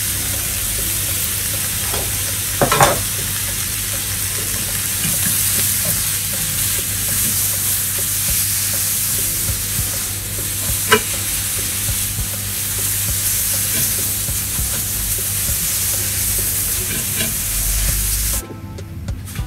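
Brussels sprouts, broccoli and cauliflower sizzle steadily in a hot pan with black pepper and salt, a continuous close frying hiss with a few sharp pops and stirring clinks, then a sudden drop near the end.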